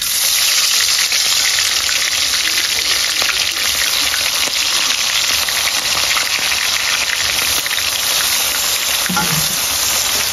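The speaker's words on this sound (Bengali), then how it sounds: "তেল গরম হয়ে গেছে, এখন মাছগুলো দিয়ে দিব।" Prawns frying in hot mustard oil, a loud, dense and continuous sizzle filling the whole stretch close up, with a faint utensil knock near the end.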